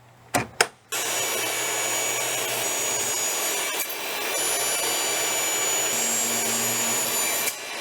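Power table saw trimming a cedar fence picket board to width, a brief few knocks then a loud sustained whine as the blade runs, continuing steadily with a slight shift midway while wood is fed through.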